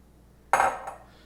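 Halved, washed strawberries tipped into a cooking pan, one dull clattering thump followed by a lighter knock, close by and brief in a quiet room.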